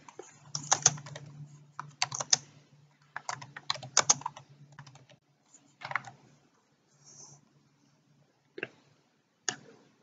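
Bursts of quiet, close keystrokes on a computer keyboard, tapped in short irregular clusters separated by pauses, fading to sparse single clicks toward the end.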